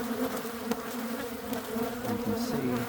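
Honeybees at an opened hive in a Madison apiary give off a dense, steady buzzing close by, a continuous swarm drone with no letup.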